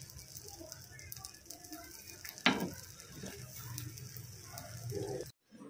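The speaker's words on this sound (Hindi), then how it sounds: "इसको उलट पलट के हम मीडियम टू लो फ्लेम में पकाएंगे एकदम क्रंची होने तक" Bread slices fry in a pan over medium-low flame, a steady soft sizzle running throughout, with one louder clatter near the middle as the slices are turned over, ending abruptly.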